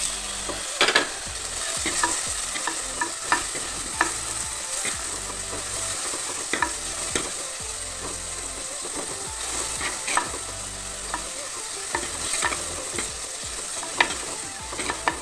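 Chopped tomatoes fry in a pan with a constant close sizzle and repeated scraping, clattering stirs throughout, with no voices.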